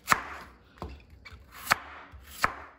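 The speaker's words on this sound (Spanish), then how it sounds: "Ya que lavamos nuestros chayotes y los pelamos y nuestras zanahorias, vamos a continuar para picarlos." A knife chops peeled chayotes and carrots on a cutting board, with four crisp, distinct strikes spaced unevenly and close up, no voices.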